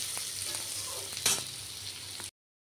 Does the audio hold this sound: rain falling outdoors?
no